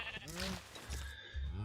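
Sheep bleating in the Minecraft video game: a few short, wavering bleats close together, loud and clear with no talking over them.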